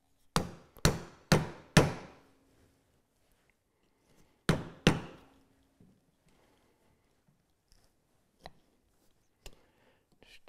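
A mallet drives a chisel to chop a mortise in wood for cam clamps: a quick run of four sharp strikes, then two more, and a few faint taps, all close and clear.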